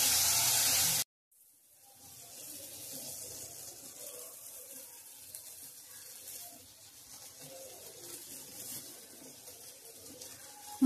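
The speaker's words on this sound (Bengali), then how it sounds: "মশলাটা ভাজা হচ্ছে।" Masala frying in a pan with a splash of water for a Bengali egg curry, a steady hissing sizzle that follows a brief loud burst and gap, continuing evenly at moderate level throughout.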